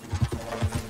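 A horse's hooves clip-clop at a brisk trot or canter in Red Dead Redemption 2, about six soft, muffled beats in a quick, even rhythm over one second, fairly quiet and alone.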